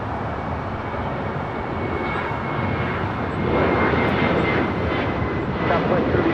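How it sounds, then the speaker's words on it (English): A Southwest Airlines jet takes off from LAX bound for Dallas Love Field, its engines giving a steady, loud, broadband roar that swells slightly partway through, with faint voices in the background. "This is Southwest Airlines 3278 taking off to Dallas Love Field"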